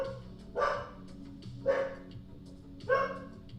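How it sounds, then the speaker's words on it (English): A dog barks three times in well-spaced, moderately loud bursts, each a short cluster of barks, heard indoors behind a quiet room tone during a live stream. "Sorry if you hear barking, is my dog."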